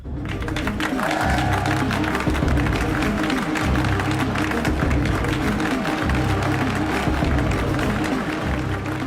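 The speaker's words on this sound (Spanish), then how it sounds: "Pero el público grita, aplaude y vitorea." A political meeting-hall crowd in the early Nazi party era shouts, claps and cheers in a steady, dense roar of hands and voices, loud and continuous, with a low droning layer underneath.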